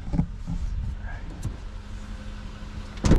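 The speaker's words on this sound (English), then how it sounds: "We're currently driving through Nevada" Steady road rumble from a car driving along a highway through Nevada, with a low hum throughout and a couple of brief knocks near the start and end.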